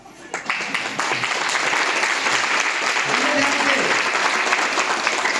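Audience applause at a motivational life-change talk in Ranchi, Jharkhand: dense, steady clapping from a large crowd that swells in within the first second and holds loud and even to the end.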